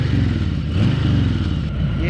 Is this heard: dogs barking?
no